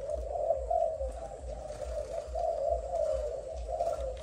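A Malaysian spotted dove coos in a steady, repeating rhythm of low, soft notes, close by, with faint background hum and no talking.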